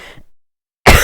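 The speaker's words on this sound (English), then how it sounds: "I have no clue why I suddenly started coughing." A single loud, harsh cough bursts out close up after a near-silent pause, following a faint earlier sound.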